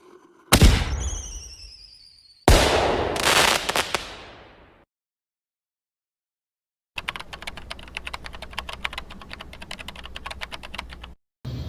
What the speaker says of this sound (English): let's just go to the nearby neighborhood and just light these fireworks so we can distract the shadow monsters